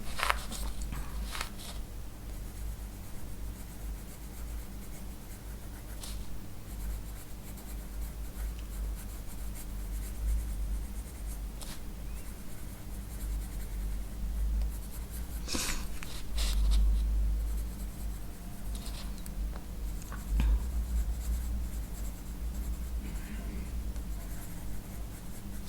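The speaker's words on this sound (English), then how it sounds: "I'm gonna just emphasize them with a little bit of pencil." A pencil shades lightly across a page of an Outlander colouring book, giving a continuous close scratchy rasp of graphite on paper with a few sharper strokes and small taps.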